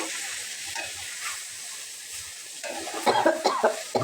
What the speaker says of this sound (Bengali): ভালো করে মশলাটা কষানো হয়ে গেছে, এখন হচ্ছে যে মাছগুলো দিয়ে দিলাম